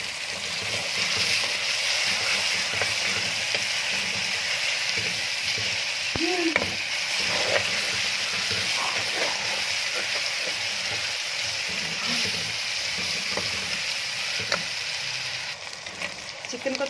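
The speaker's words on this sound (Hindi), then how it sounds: "को अच्छे से फ्राई करेंगे।" Chicken frying in a pan for a Chinese daal mash chicken recipe, giving a steady close sizzle throughout with occasional soft stirring clinks.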